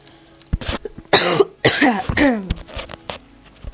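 A few harsh coughs in a short burst, close and fairly loud, with brief pauses between them and no speech.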